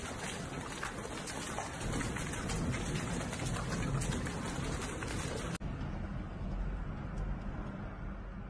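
A sudden, violent hailstorm with heavy rain pounds down on Rome, Italy, one Wednesday afternoon. A dense, steady roar holds close and loud, then abruptly drops to a softer, thinner downpour partway through.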